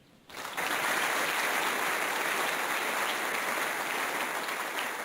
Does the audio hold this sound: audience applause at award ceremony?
yes